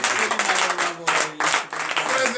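A crowd at a Christian morning prayer gathering in Benin claps and cheers, a dense continuous wash of applause with a few brief dips, over the sound of voices.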